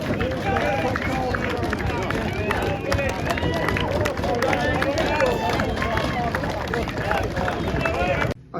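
Applause from a bumper crowd at a Redcar Athletic versus Bury FC football match, a dense, steady roar of clapping and crowd noise that holds throughout.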